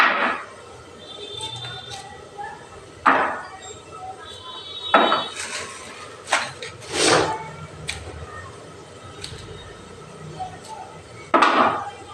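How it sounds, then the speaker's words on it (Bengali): A knife cutting through cauliflower on a board in a home kitchen, a few sharp separate chops and cracks spaced a couple of seconds apart, with quieter handling sounds between them. "দেখো ফুলকপি কাটছি এখন"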